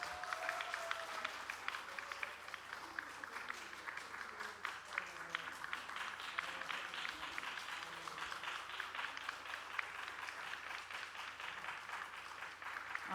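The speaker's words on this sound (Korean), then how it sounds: "박수로 축하해 주세요." Audience at a church new-member graduation ceremony applauding steadily for the full stretch, a dense even patter of many hands in a hall with faint voices underneath.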